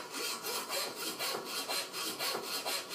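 A saw cuts through pork backbone during butchering, giving rhythmic back-and-forth rasping strokes, about six or seven per second-and-a-half cycle, close and steady with a gritty, scraping texture and no voices.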